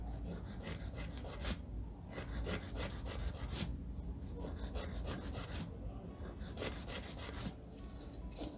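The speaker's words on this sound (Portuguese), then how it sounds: "Depois eu vou vir lixando as paredes laterais, que eu vou lixando e virando a lixa assim" Rapid, rhythmic rasping strokes of a nail file scraping back and forth along the sides of a fingernail, quiet and close, continuing steadily with brief pauses.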